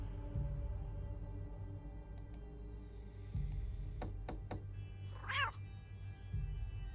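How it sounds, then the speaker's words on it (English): The ghostly cat in the video game Hero U: Rogue to Redemption gives a single drawn-out, wavering meow. A low ambient drone and a few sharp ticks come first. The meow is moderately clear against the game backdrop. "So a ghostly cat patrols this area."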